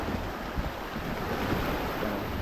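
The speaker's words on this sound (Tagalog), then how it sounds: "Malakas yung dagat." Rough sea surf crashes continuously against a rocky island shore, a dense roar of churning water with steady wind buffeting nearby.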